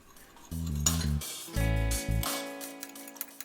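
Chinese vinegar, tamarind paste and soy sauce are stirred together in a small bowl, with a spoon clinking and ticking against the sides in quick bursts, close and fairly loud, with no talk.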